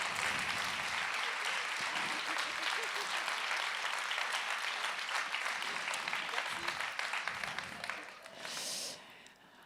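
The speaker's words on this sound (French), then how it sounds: "Vous pouvez les applaudir." An audience at an engagement trophy award ceremony applauds the prize winners, a long, steady round of clapping that holds fairly quiet and distant before thinning out near the end.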